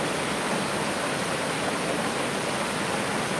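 Wagner Falls, a waterfall in Michigan's Upper Peninsula in spring, roaring as a dense, steady rush of falling water, loud and close with no pauses.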